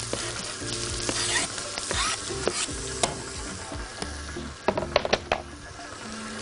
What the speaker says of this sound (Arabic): نبدا ان احنا نقلب عندنا البصلايه دي كده